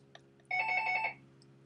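A landline telephone rings with a single loud electronic trill burst, about half a second long, close by in a quiet room with a low steady hum underneath.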